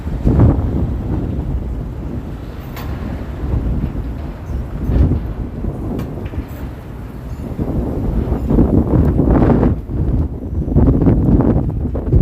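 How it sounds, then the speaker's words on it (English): Outdoors at a Toronto street corner, gusting wind buffets the microphone with heavy, uneven low rumbling that swells and eases in waves over the whole stretch. "Oh, that wind is blowing directly into my face."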